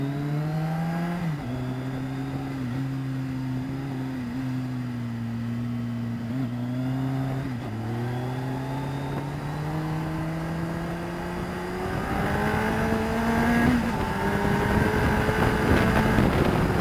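A car lapping a race track at Mallory, with a steady engine drone heard from inside that rises and falls through gear changes and builds to a louder rev near the end, with wind noise and no talk.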